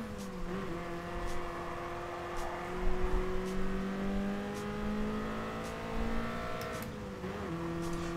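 A race car engine in Gran Turismo Sport holds a loud, steady whining drone on throttle, its pitch wavering slightly as revs rise and dip, with a couple of brief shifts or lifts breaking the tone.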